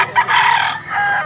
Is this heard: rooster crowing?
yes